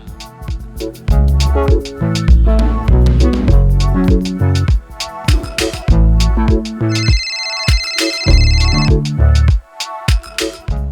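A mobile phone plays a loud melodic ringtone that sounds on and on with a brighter ringing burst partway through, in a Bangla drama scene.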